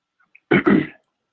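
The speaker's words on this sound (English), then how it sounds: "Let me clear my throat" A short throat clearing, two quick rasping bursts close to the mic, then silence.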